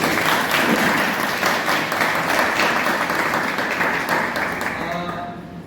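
Loud audience applause in a hall at Punjab University, Chandigarh greets a theatre professor chairing the Department of Indian Theatre. The dense clapping holds for about five seconds, then thins and fades.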